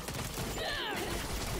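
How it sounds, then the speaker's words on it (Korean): Cannon fire in the online action game Lost Ark, heard as a dense fusillade of booming shots and battle effects in a continuous loud mix, with no voices over it. "대포 쏘는데 자기네도 그 자살하고 있어?"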